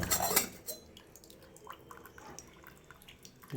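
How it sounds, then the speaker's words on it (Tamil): Filter coffee decoction dripping through a coffee filter at Gayathri Coffee Works in Malleswaram, Bengaluru: faint, sparse drips close by, with a brief louder clatter at the start and light clinks of utensils. "டிகாஷன் சத்தம் கேட்குது"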